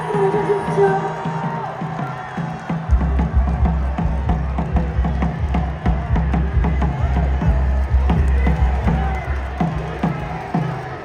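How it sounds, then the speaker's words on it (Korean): A crowd at a Democratic Party of Korea rally welcoming party leader Lee Jae-myung, a sustained roar of applause and cheering with whoops, loud and continuous, with a heavy low rumble and crowd voices throughout. "큰 박수로 모셔주십시오."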